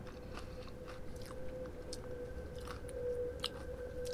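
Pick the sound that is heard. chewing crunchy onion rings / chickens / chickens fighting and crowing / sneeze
chewing crunchy onion rings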